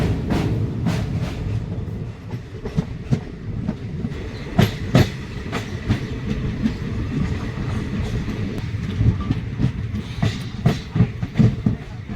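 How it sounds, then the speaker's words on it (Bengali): A train rumbles along at close range over a river bridge, with rhythmic clickety-clack of wheels over rail joints and a loud hollow running roar throughout. "ট্রেন এখন কালজানি নদীর ব্রিজ ক্রস করছে"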